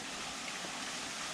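A creek beside a hiking trail rushes steadily downhill, a continuous, even hiss of flowing water with no breaks, moderately quiet and close by.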